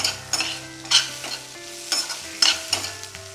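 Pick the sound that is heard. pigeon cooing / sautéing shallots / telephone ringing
sautéing shallots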